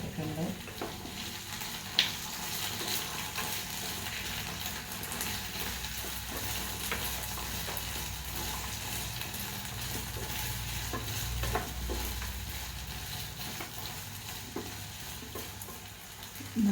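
A tomato sauce mixture is stirred in a pan over a steady low sizzle, with soft scraping strokes and an occasional sharper clink running continuously for about seventeen seconds.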